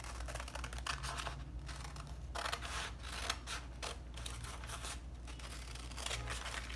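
Scissors cutting out a paper pattern for a princess bustier dart, a close, continuous run of crisp snipping and paper rustle at an even rhythm, with no talk.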